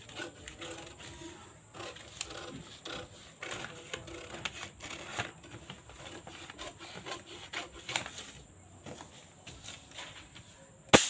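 Scissors cut through katori blouse fabric in a steady run of close, crisp snips and rubbing strokes, quiet overall and without talk.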